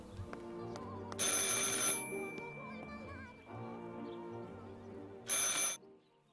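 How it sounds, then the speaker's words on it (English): A telephone rings inside the Martha is Dead video game, two bright bursts of ringing separated by a pause, with quieter game music and ambience underneath. "Alright, let's go pick up the phone."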